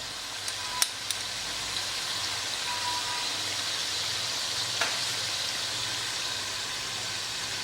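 Butter sizzles in a pan with hung-curd masala for chicken handi, a steady, moderate frying hiss with a couple of small clicks early on and one faint knock midway.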